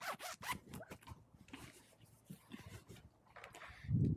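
A clothing zipper is worked in several quick rasping pulls, close and fairly quiet, with brief pauses between strokes and a soft rustle near the end.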